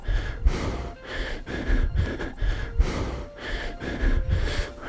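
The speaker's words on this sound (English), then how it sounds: "Making sure to breathe." Heavy, rhythmic breathing during an at-home cardio and abs HIIT workout, with repeated sharp gasps and snorting exhales in quick succession, close and fairly loud with no talk.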